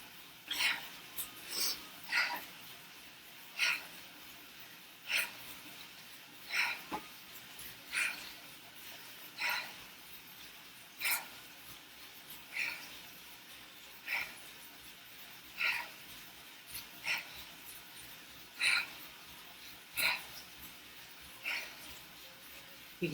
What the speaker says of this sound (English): You can hear that breathing's ramping up.